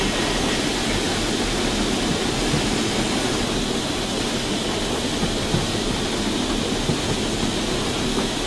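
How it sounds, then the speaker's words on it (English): A steam locomotive injector running on a J50 tank engine in Train Simulator 2015, a continuous broadband hiss and rush of water and steam, steady and loud without a break. "Let's get the injector going to stop the boiler pressure getting too high."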